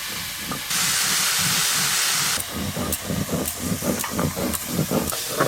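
Taro stolons frying in a pan, a loud burst of hissing sizzle as they hit the hot oil, then settling into crackling sizzle with repeated scraping stirs close up.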